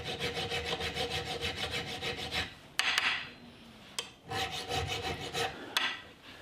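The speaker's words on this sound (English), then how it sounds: "So I start out with a medium file," A medium file rasps across the barrel of a black powder flintlock Hawken rifle build in rhythmic strokes, close and steady, pausing briefly mid-way with a few clunks before the strokes resume.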